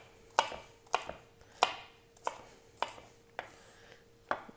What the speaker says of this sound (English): Move that off to the side and repeat until we get the whole